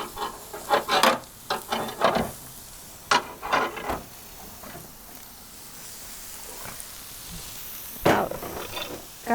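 Chicken fajitas with vegetables stirred in a pan from an Ooni Koda 16 oven, a series of close scraping, rubbing strokes in irregular bursts over a faint sizzle, with a quiet pause in the middle.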